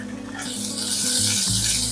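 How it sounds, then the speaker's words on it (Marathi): Ginger garlic paste dropped into hot oil with bloomed cumin seeds, bursting into a loud, bright sizzle that swells and holds steady over a low background hum, close up with no voices. "आता आपण आलं लसणाची ही पेस्ट आहे ती घालूया."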